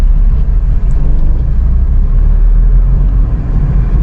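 A car engine rumbles low and steady as the clutch is slowly released, a loud continuous drone with no talking.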